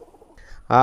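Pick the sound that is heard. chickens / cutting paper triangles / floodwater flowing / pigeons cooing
pigeons cooing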